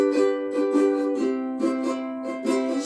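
Ukulele strums the chords of a song in a steady rhythmic pattern, bright and close, with no voices.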